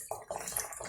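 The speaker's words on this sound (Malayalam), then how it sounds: "ഞാൻ ഇതിലോട്ട് കുറച്ച് തേങ്ങാപ്പാൽ ഒഴിക്കുകയാണ്." Coconut milk pours into soft, well-cooked mashed jackfruit in a pot, a brief wet splashing and trickling sound heard close up.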